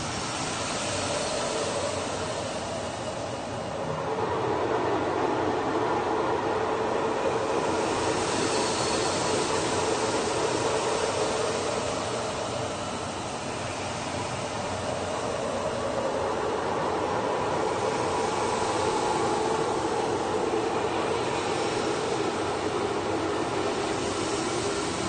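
A steady, loud roar from an F-35 fighter jet during an aerial intercept, a broadband rushing noise that swells slightly without a break for about 25 seconds.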